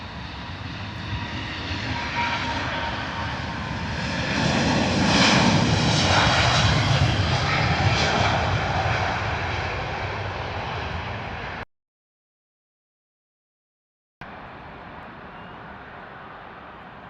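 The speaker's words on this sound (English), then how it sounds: "Another A350 1000 from British Airways, this time heading out to Nairobi. Power set and rolling." A British Airways Airbus A350-1000 bound for Nairobi rolls for takeoff at Heathrow on full power, its engine roar building to a loud peak then easing, before a brief dropout and a quieter steady rumble.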